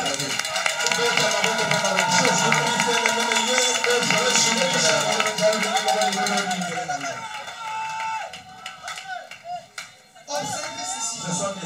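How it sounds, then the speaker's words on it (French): Church congregation clapping and cheering together, a dense roar of hands and voices that is loud at first, then thins into scattered claps and shouts and fades toward the end. "Acclamez pour la part de votre Dieu."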